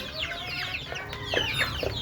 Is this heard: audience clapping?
no